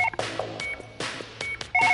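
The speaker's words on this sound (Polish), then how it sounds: "Ktoś dzwoni telefonem." Electronic phone-call tones in the surgery video game Surgeon Simulator on PS5: repeated short bursts of bright beeping and dialing tones in a quick, uneven pattern over a steady low game hum, with no talk.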